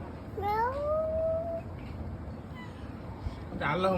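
A voice imitates a cat's meow, one drawn-out rising and falling mew, followed by a brief fainter cry near the end, in a quiet room.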